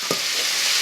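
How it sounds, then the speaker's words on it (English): Broccoli rabe dropped into a pot of heavily salted boiling water for a quick blanch, giving a brief splash followed by a steady, close bubbling hiss with no voices. "I'm gonna take that beautiful broccoli rabe and you're just gonna add it right into the boiling water."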